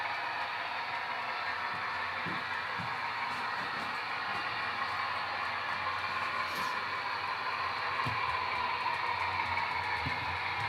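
A Rapido CN Tempo set model locomotive runs past on a layout, producing a steady whirring rumble with faint clicks of wheels over track, continuous and fairly quiet.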